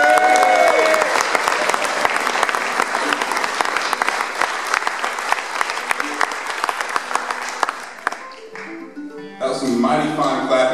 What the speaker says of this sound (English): That was some mighty fine clapping.